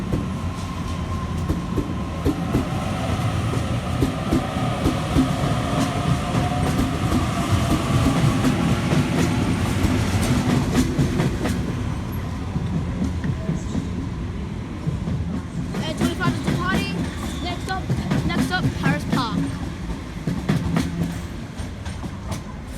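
A local passenger train pulls away from a station platform, a steady rumbling roll with rail clatter sustained throughout, fairly close and continuous, with no talk over it.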